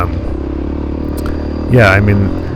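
A stock 1993 Honda XR600R single-cylinder motorcycle engine rumbles steadily close by, swelling into a brief louder rev near the end, with a voice briefly heard over it.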